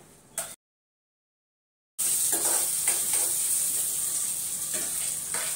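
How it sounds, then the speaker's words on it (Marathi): Hot oil sizzles in a wok while Maggi noodles are being tempered. A brief noise and a short silence come first, then a loud, steady sizzle runs close up to the end with no talk. "कढईमध्ये टाकले तेल. आता ना मस्त मॅगी फोडणी देते."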